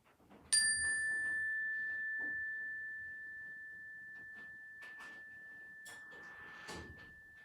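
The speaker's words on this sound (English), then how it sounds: "I'm going to ring the bell and we can take 3 breaths together" A single meditation bell is struck once at the start of a guided mindfulness session, its clear pure tone ringing out and slowly decaying over several seconds in a quiet room, with faint rustles and soft movement underneath.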